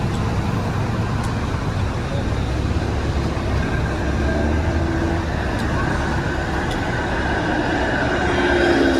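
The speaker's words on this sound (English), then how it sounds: "Here's a 501 Queen streetcar going all the way to Neville Park." A 501 Queen streetcar passes along Queen Street in Toronto, a loud, continuous rolling rumble blended with steady city traffic from start to finish.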